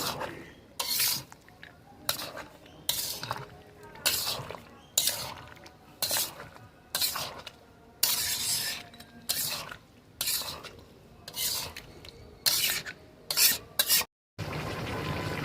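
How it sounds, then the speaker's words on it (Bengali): A spoon scrapes steadily through mutton and potatoes in a pot for a Bengali-style curry, in repeated rhythmic strokes with clanks against the metal and a faint sizzle between them. "মাংসের সাথে আলুগুলো দিয়ে আমরা ভালো করে কষিয়ে নেব।"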